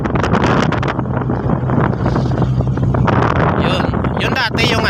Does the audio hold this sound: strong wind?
yes